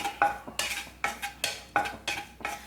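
Flattened rice (poha) for aval mixture being stirred in a pan, about seven sharp, evenly spaced scraping clinks of a spoon against metal, close and alone, with a faint sizzle between strokes.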